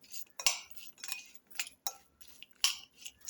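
A spoon stirs salt into lime pickle in a bowl. It makes quiet, irregular metallic clinks and scrapes, with several sharper taps against the bowl over a few seconds.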